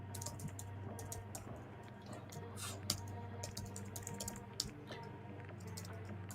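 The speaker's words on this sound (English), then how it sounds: "I'm typing away and you can't see it still." Rapid tapping on a computer keyboard, quiet and close, forms an irregular stream of soft clicks with a couple of sharper key strikes over a low background hum.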